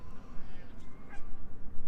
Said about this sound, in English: There is someone just throwing food at the ducks and the geese